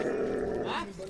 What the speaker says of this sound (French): Le chien de patrouille est d'abord utilisé comme arme de dissuasion